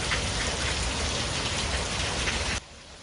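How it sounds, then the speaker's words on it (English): Heavy rain pours down in Pasadena, a dense steady hiss of water hitting surfaces that cuts off abruptly to near quiet after a few seconds. "This is video from this afternoon showing the rain dumping in Pasadena"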